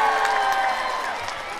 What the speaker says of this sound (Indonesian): Yang sebelah sini tepuk tangannya mana?